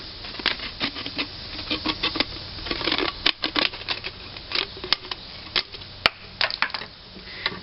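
Scissors snip repeatedly around the top of a plastic bottle, giving quick crisp clicks and crinkles up close, in irregular bursts with brief pauses between cuts.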